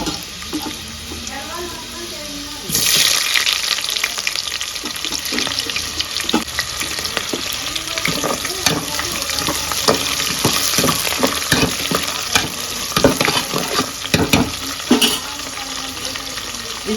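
Garlic and curry leaf sprigs frying in oil for a festive Telugu home cooking session, a steady crackling sizzle with sharp pops and clatter from stirring, close and fairly loud throughout after an initial quieter stretch.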